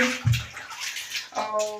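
Water sloshing and splashing in a basin as a knitted sweater is washed by hand, with a few brief close swishes and gurgles over about two seconds.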